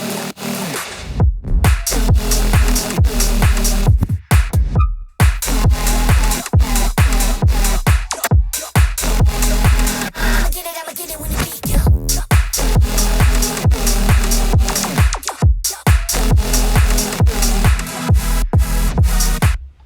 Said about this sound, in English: my leads are actually also from my bonus preset pack for Serum